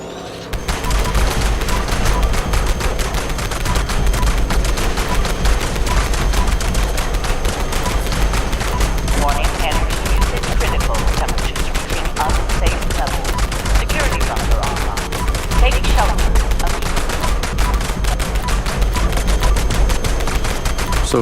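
Sustained rapid automatic gunfire from a modified EN06 Guardian gatling weapon in Fallout 76, a dense, loud, unbroken stream of shots lasting the whole stretch with no pauses.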